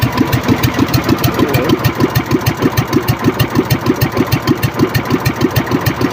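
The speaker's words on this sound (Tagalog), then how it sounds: "pinandaraan natin ang makina para hindi umistak." Engine of a bangka fishing boat running steadily up close, a loud, rapid rhythmic chugging with regular low thumps and no voices.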